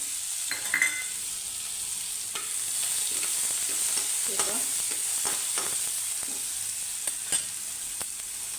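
A coarse paste of chilli, garlic and cumin fries with amaranth greens in a pan, a steady bright sizzle broken by repeated stirring clatters and scrapes of a spoon, with no voices.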